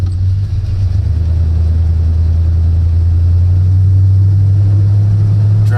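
A 1979 Chevrolet C10 pickup truck's engine drones loud and steady while driving, a constant low rumble from close inside the cab with a faint hiss of road noise and no speech.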